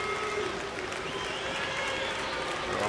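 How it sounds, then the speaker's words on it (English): Baseball crowd at a Reds at Astros game in September 2013 cheering for Jay Bruce: a steady, dense roar of voices and applause that fills the whole stretch at an even level, heard from within the stands. "There are probably some Jay Bruce fans, and that is the Bruce cheer that we're hearing"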